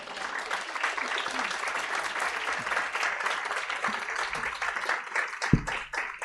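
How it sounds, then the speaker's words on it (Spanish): Applause from an audience welcoming a guest lecturer at a talk on cities and transport, a steady, fairly close patter of many hands clapping with a few murmuring voices underneath, ending with a sharp knock. "Pedido por favor un aplauso"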